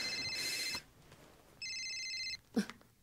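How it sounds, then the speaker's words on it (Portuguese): Two trilling electronic rings of a telephone, each lasting under a second with a short gap, fairly close and clear, followed by a brief rustle. "a Faye me chamou"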